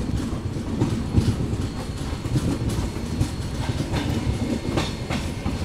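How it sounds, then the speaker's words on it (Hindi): The Bikaner Intercity train 22472 rumbles steadily at Udaipur station, a loud, continuous low roar of wheels with faint rhythmic clickety-clack running throughout. "Bikaner intercity train number 22472।"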